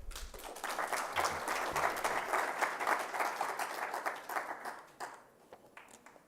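A conference audience at a cyber security event breaks into steady applause, a dense wash of many clapping hands filling the room for several seconds before thinning out and fading at the end.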